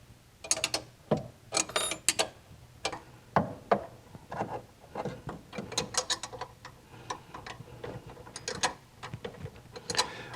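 A wrench tightens the nuts on EMPI 34 dual carburetors fitted to a 1968 VW Karmann Ghia, a run of sharp mechanical clicks and ratcheting ticks in irregular bursts, close and fairly quiet, with no talking.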